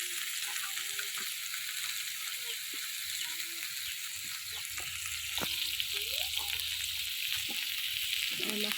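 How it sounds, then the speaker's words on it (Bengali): A fish fries in oil in a pan with a continuous close crackling sizzle that grows slightly louder partway through, while faint short tones sound in the background. "আর মাছটা আমি লাল লাল করে ভাজছি।"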